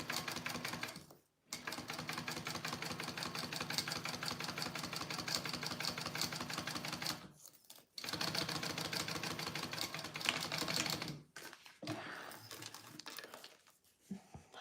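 A domestic sewing machine stitches a fabric pouch in long runs of rapid, steady clatter, broken by short pauses, with a faint voice near the end.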